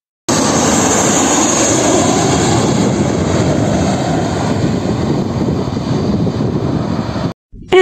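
A fixed-wing aeroplane roars loudly and steadily with a broad engine rumble, sustained for several seconds before cutting off abruptly near the end.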